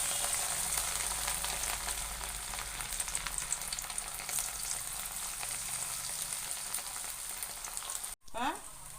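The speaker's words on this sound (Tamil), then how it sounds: "நல்லா சூப்பராக ஃப்ரை ஆகிட்டு இருக்குது." Cauliflower pieces for gobi 65 fry in hot oil with a steady, soft sizzle and bubbling that runs for several seconds. Near the end the sizzle briefly cuts out, then a short rising squeak follows.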